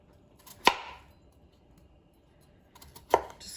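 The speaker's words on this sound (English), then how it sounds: "Cutting, sort of quartering them and then cutting them into bite-sized pieces." Knife chopping potatoes into bite-sized pieces on a cutting board, two sharp separate cuts spaced a couple of seconds apart with quiet between them.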